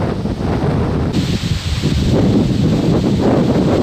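Gusty wind buffets the microphone in a constant rough roar, with rustling of twigs underneath and no one speaking, outdoors during a ferreting hunt.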